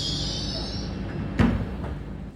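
A passenger train rumbles past at Dawlish with a high wheel squeal at first and a brief clunk midway, steady and fairly close.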